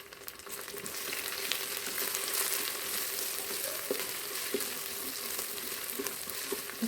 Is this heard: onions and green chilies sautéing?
yes